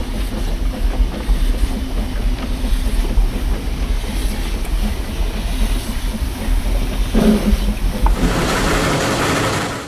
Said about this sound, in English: Number 33 has grabbed a cut of loads and begins making up a train for another run down to Standard.